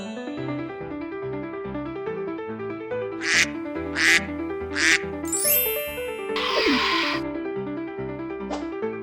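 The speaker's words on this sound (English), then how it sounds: "Duck." A cartoon duck quacks about three times in a row, then once more later, bright and close over cheerful children's music with a rustling burst midway.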